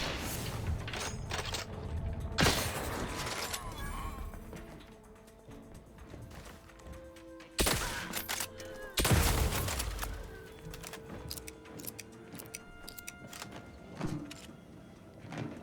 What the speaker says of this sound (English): I'm just going to shoot the rest of them